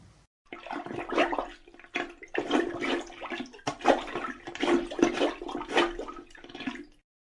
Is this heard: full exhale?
no